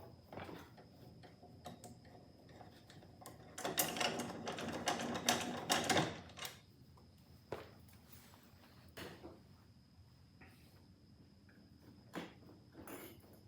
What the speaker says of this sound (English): we'll crank this wheel up so it's actually sitting